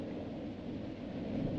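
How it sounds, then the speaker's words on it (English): Thunder rumbles low and continuous, a deep rolling roar that holds steady throughout, heard in a 1935 serial. "Listen. There's that thunder sound."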